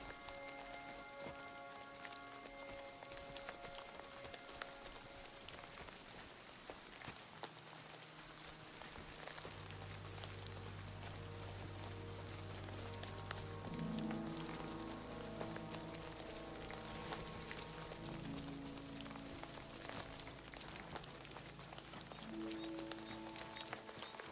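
Steady rain falls in the video game Kingdom Come: Deliverance 2, a continuous wash of drops on surfaces that runs throughout, with low game music and ambient tones layered underneath.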